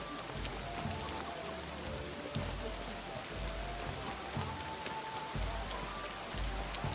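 Rain falls steadily on surfaces in a medieval village in Kingdom Come Deliverance II, a dense, even patter of drops with faint low rumbles underneath, heard alone without talk.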